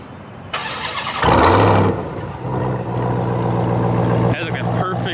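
A Ram TRX pickup with its mid muffler deleted cranks and fires up, giving a brief loud roar before settling into a deep, rumbling idle close by.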